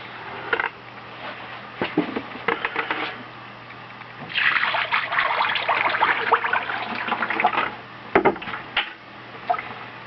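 Pottery glaze liquid bubbles and trickles while being pushed through a sieve, with intermittent splashing and clattering, a longer stretch of steady liquid gurgling in the middle, and sharp knocks of tool against container, close up.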